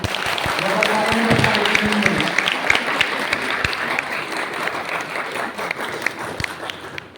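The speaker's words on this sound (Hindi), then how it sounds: "ऐसे हमारे ब्रजेश सर के लिए जोरदार तालियां।" Audience applause fills a college auditorium, steady mixed clapping from a crowd that holds for several seconds, with a voice briefly audible near the start.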